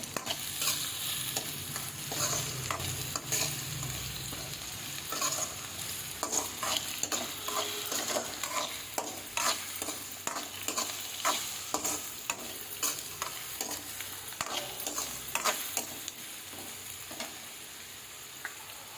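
Curry leaves frying in hot oil in a pan for green pea and capsicum fried rice, with a steady sizzle and a continuous rhythmic scraping of a spoon stirring throughout.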